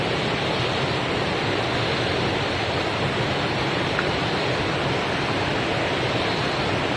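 Steady, dense rush of river water flowing near a bathing spot, an even broadband roar with no breaks, close and alone without voices.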